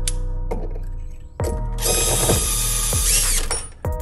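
A hand tool ratchets a screw tight on a 10-ton Enerpac RC102K hydraulic ram during a seal kit overhaul, giving repeated close metallic clicks and clunks with a brief whirring stretch in the middle.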